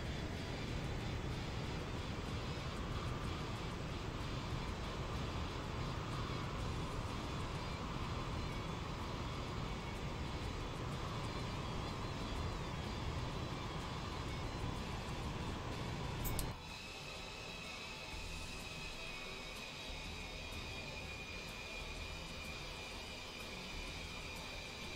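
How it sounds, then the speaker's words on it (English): A jet's afterburner roars in a Microsoft Flight Simulator takeoff, a dense, loud, continuous rumble that abruptly drops to a lower, thinner engine whine with a steady high tone about two-thirds through. "Now an afterburner takeoff."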